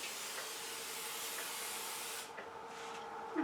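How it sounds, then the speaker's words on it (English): Cooking spray hisses onto a 9 by 13 baking pan in one long steady burst that cuts off, followed by a couple of short quieter spritzes. "I'm going to spray this 9 by 13 pan with cooking spray."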